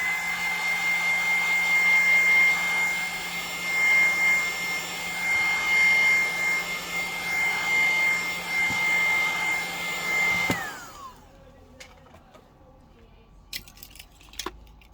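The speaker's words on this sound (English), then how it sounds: "You can use heat gun or heat pad." A heat gun blows steadily on the back camera glass of a Samsung Galaxy phone, a loud continuous airy roar with a whine, then it cuts off abruptly near the end, leaving small handling clicks.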